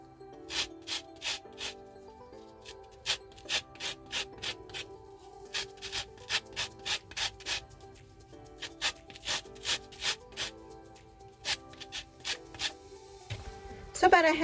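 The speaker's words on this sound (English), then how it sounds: "I'm going to put lemon zest in mine." Lemon zest being grated on a hand grater while preparing a spring dinner, a steady run of short rasping scrapes in quick rhythmic bursts, fairly close, with faint background tones and a louder clatter at the end.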